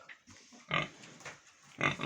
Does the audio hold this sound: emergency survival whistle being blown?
no